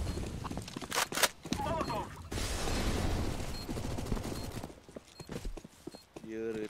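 Flashbang and molotov grenades thrown during a CS:GO match: loud bangs and bursts, a sustained roaring blaze in the middle, then footsteps and game clatter, with players chattering over the action.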